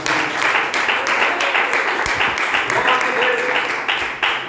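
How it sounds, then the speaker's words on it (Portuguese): A church congregation clapping hands in a quick, even rhythm, with voices heard through and alongside the claps, fairly close and moderately loud. "Pode bater as palmas."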